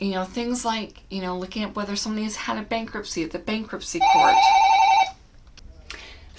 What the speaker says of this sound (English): Sorry for the phone ringing in the background.